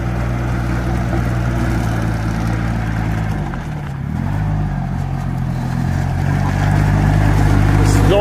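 A 2012 Chikusui Canycom S160 crawler carrier drives on gravel, its engine droning steadily and loudly up close with a brief dip in pitch midway and clattering underneath.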